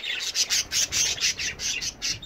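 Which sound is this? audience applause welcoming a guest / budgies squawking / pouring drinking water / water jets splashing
budgies squawking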